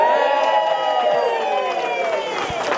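Guests at a wedding speech burst into a loud, sustained cheer with whoops and scattered clapping, a dense crowd roar that holds steady from start to finish.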